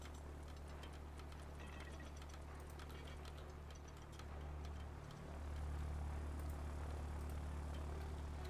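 Propeller aircraft engine drone from the video game Ground of Aces, a steady low hum that shifts in pitch and swells louder toward the end, with faint clicking interface sounds above it.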